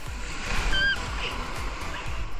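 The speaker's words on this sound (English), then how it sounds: "The waves are really big." Big ocean waves break and churn around a swimmer in cold surf with a strong current, a steady wash of broadband noise with low rolling surges, while a voice briefly exclaims over it.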